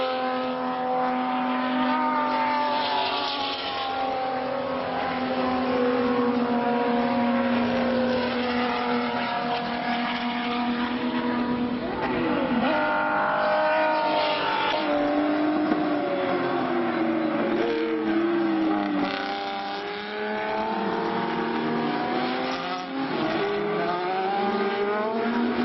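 Class D race cars roar around a track in Buenos Aires, several engines overlapping in a loud continuous drone that rises and falls as they rev, shift and pass, with no talk.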